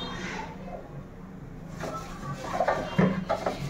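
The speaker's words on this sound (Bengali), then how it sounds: "ইডলি মেকারটা যে এখন কতদিন পরে বের হলো।" Metal idli maker pot handled in a home kitchen, giving a few close clinks and knocks that cluster toward the end, set against a low background hum.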